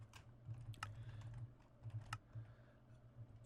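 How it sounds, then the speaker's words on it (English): Quiet close-up typing on a computer keyboard, irregular clusters of light key clicks with a few sharper taps, over a low steady hum. "I gotta pull my keyboard out."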